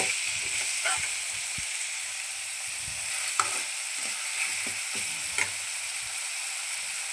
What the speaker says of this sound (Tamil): எண்ணெயில் வறுக்க போகிறோம் பாருங்கள் எண்ணெயில் வந்து இப்போ வதக்காகுது